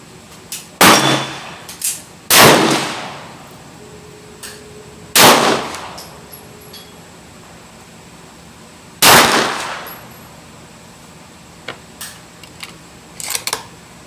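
Savage Axis XP rifle fired during barrel break-in at about 120 yards, sharp loud reports at intervals, four big cracks over fourteen seconds, with faint clicks and clanks of handling between shots.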